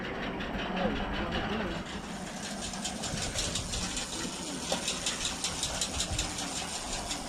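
A low, rumbling antique 770 tractor engine idles steadily with a rough, knocking rhythm, close by, with some outdoor noise mixed in.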